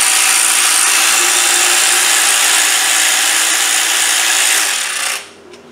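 Power tool whirring steadily at close range as it spins out the upper idler pulley bolt on a 2007 Range Rover 4.2 Supercharged during a head gasket job, a loud continuous drone that cuts off near the end.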